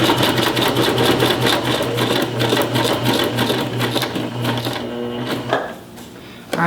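A sewing machine stitches in a fast, steady mechanical rattle that runs unbroken for several seconds, then slows and stops near the end, loud and close with no talk over it.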